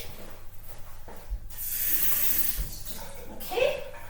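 A peeled egg rinsed under running tap water, a short hiss of flowing water lasting a couple of seconds with a brief splashy burst near the end, close by.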